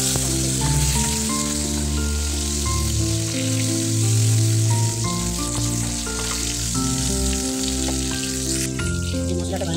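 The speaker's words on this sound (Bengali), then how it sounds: "তেলের মধ্যে কালো জিরে দিলাম, একটুখানি ভাজাভাজি করে নিলাম।" Nigella seeds and tomato frying in hot oil give off a steady, loud sizzle with crackling throughout, while music plays underneath.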